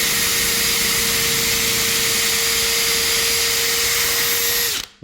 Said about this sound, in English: There's the pilot hole drilled.